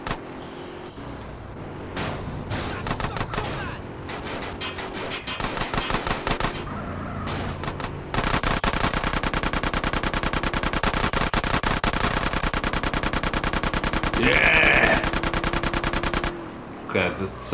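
Gunfire in Grand Theft Auto: San Andreas, with rapid, steady automatic shots running almost the whole time beneath game sounds and music, growing denser in the second half.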